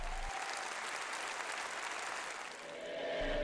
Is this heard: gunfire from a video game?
no